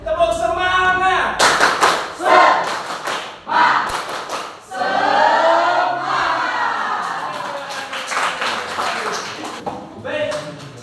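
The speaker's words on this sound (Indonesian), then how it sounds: "Kita tepuk semangat bareng-bareng biar semangat." High school students in a classroom session perform a rhythmic group spirit clap together, with sharp bursts of clapping and loud chanted voices mixed in, close and energetic.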